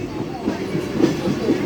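A Vande Bharat express rumbles past a Mumbai local train on a rainy run near Kalyan, a brief, steady, low clatter heard from on board.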